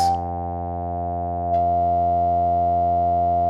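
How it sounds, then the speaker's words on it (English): Behringer 1047 multimode filter with resonance tuned onto a frequency peak, a sustained buzzing synth tone rich in stacked harmonics, steady and loud with a brief click and slight shift partway through. "we already hear that the filter starts to saturate when we tune the resonance to one"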